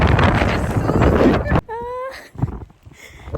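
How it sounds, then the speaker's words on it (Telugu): Strong wind buffets the microphone high on a Snowdonia mountain, a loud rough roar for about a second and a half that cuts off into quieter gusts and a brief tonal whine. "గాలి తుక్కు లేపుతుంది"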